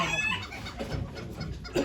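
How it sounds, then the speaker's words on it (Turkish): Roosters and hens at a chicken auction in Ankara cluck and call close by, with a brief crowing note near the end and a hum of background activity. "Horozlar dev gibi ya"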